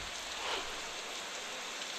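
Continuous heavy rain over the flooded industrial town of Chakan in Pune district, heard as a steady, even hiss with a soft low rumble and nothing else standing out.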